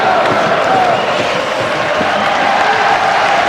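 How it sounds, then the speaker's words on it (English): Ice hockey arena crowd at a Manchester Storm versus Sheffield Steelers Superleague game, a steady loud roar of fans on their feet as the final seconds tick down, continuous and building. "The crowd are already on their feet around this arena. The noise is building."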